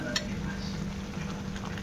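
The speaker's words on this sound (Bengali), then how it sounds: "ঢেলে ভালো করে কষাতে থাকবো, যাতে মশলার কাঁচা গন্ধটা চলে যায়।" Spice paste for alsande kalu sambar frying and being stirred in a pan, a steady low sizzle with occasional scraping strokes that stays even and close throughout.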